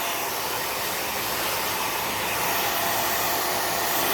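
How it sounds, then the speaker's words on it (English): A hair dryer blows steadily and close for several seconds, a constant loud airy whoosh used to dry hair, with no voices. "blow drying your hair is not rocket science"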